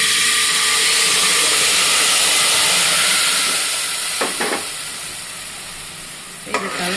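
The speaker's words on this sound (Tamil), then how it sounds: "இந்த அரைச்சிட்டு வந்த தக்காளியை இந்த மூலமாக ஊற்றிக்கோங்க." Steady loud sizzle and hiss of ground tomato puree frying in a hot pan for tomato pickle, fading slightly, with a few brief clinks of a utensil near the end.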